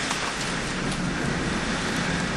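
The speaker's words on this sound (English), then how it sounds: "Still hailing." Hail pelting down during windstorm Emma in Kralupy, a steady dense roar of pellets striking surfaces with gusting wind mixed in, loud and unbroken throughout.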